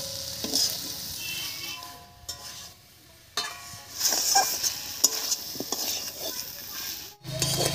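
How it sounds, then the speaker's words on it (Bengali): Fried prawns stirred into a cooked masala with potatoes and chui in a pan, a continuous close sizzle with scraping spoon strokes and occasional clinks, plus a brief louder clatter near the end. "এবার এর মধ্যে দেব ভেজে রাখা চিংড়ি মাছ।"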